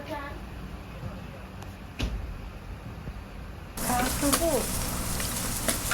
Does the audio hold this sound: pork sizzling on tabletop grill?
yes